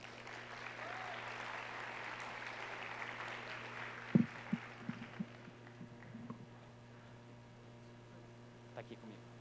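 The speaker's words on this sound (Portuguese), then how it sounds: "uma salva de palmas para ele também." Applause from an audience at a Brazilian business event fills the first half as a soft, steady clatter of hands, then fades out, leaving a low electrical hum with a few scattered claps and small knocks.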